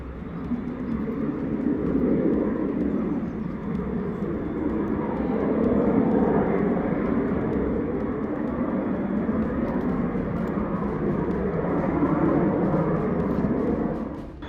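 A trainer jet flies a low approach near a runway, then goes around, its engine roaring steadily at a distance, swelling and holding a broad, sustained drone throughout.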